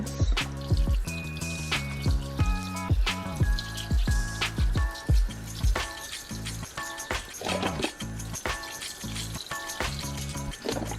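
Vegan smoky collard greens in a pot as two cartons of broth are poured in, a steady liquid splash and trickle running throughout with clinks and small knocks mixed in.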